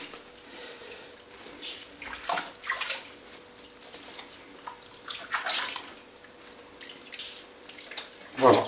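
A boudin blanc sausage goes into a basin of ice water, with close sloshing and splashing water that swells and eases over several seconds and ends in a brighter splash.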